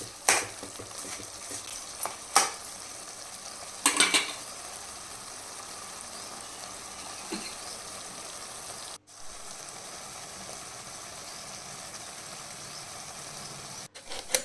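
Tomatoes being stirred with rock salt in a pan for an Andhra-style red chilli tomato pachadi: a soft, continuous sizzle broken by several scraping, clattering spoon strokes, heard alone at moderate loudness.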